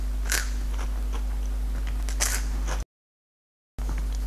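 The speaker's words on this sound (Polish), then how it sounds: "Mam nadzieję, że będzie słychać chrupnięcie." Two sharp, close crunches as someone bites into a light, sugar-free homemade waffle, with a steady low hum between the bites and a brief dropout to silence.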